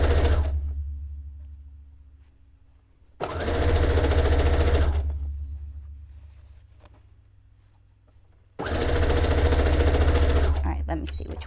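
A sewing machine runs a straight stitch in two long steady bursts separated by quiet pauses, loud and close, with a constant low hum throughout.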